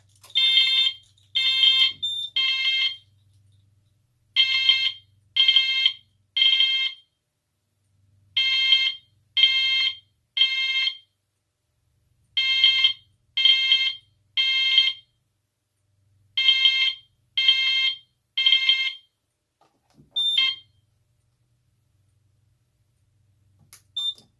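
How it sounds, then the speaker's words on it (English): A fire alarm sounds during a smoke detector test on an Edwards FireShield Plus panel, loud repeating bursts of three shrill electronic tones separated by short pauses, close by, then stops near the end. "We'll test out the smoke detector here."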